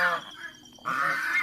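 Domestic geese kept as house guards honk in two brief nasal calls separated by a short pause, fairly close and alone without talk.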